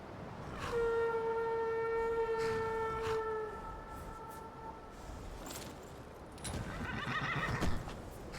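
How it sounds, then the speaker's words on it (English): A horse in the video game Skyrim lets out a long, loud whinny over steady clip-clop of hooves, followed by more hoofbeats and a brief snort against a constant background of game ambience. "Paid horse. Yeah, it would be good to get him over here."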